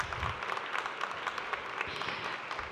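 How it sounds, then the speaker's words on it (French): Applause from the audience at a Paris Retail Week round table hosted by Zendesk, a dense, steady wash of many hands clapping throughout, fairly close and continuous. "un tonnerre d'applaudissements pour Shams et Jaouni"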